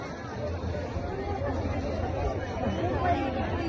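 Crowd chatter at a village fair (yatra), a dense outdoor babble of many voices mixed together, steady and fairly close, with a narrator talking over it.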